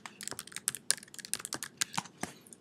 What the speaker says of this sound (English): Type in our credentials